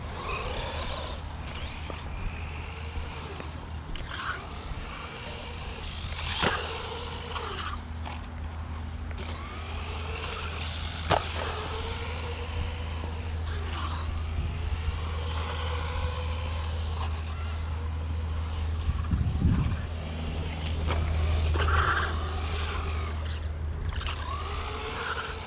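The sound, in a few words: RC truck motor running, Arrma Kraton Sledge 1/14 scale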